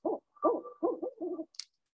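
A barred owl gives a series of deep, rhythmic hoots in quick succession, close and clear, followed by a brief higher note.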